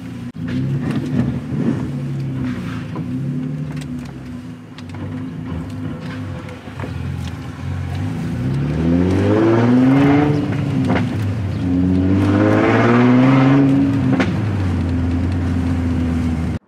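A car engine idling with a low rumble, then revving up with rising and falling pitch sweeps as it pulls away, loud and close, growing stronger in the second half.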